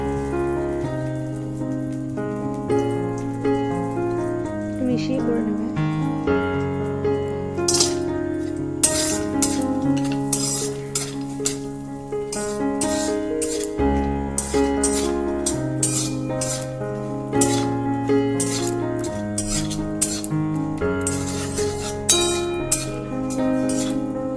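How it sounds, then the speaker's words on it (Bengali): Walnuts and almonds dry roasting in a wok rattle and patter continuously, with frequent light clinks as they are stirred and tossed, close and fairly loud. "কড়াইয়ের মধ্যে কয়েকটা আখরোট আর কয়েকটা আমন্ড দিয়ে দেবো"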